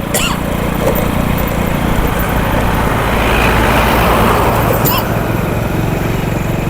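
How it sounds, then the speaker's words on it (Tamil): A vehicle passes along a busy road. A loud, steady engine rumble and broadband road roar run continuously throughout, swelling slightly in the middle. "இப்போ தான் ஏதோ வண்டி இருக்கு வந்துட்டு இருக்குது"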